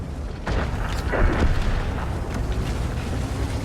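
A single heavy tank cannon boom in a video game, the TNH T Vz. 51, bursts out, followed by rumbling echo and battle noise that continues for a few seconds.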